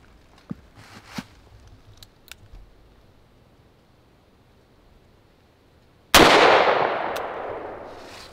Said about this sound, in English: 357 out of the Colt Python.